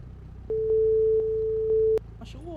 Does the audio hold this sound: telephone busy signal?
yes